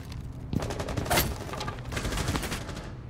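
Rapid bursts of gunfire from a hard-recoiling gun in a tactical shooter video game, steady and loud across the whole stretch with sharp peaks mid-way.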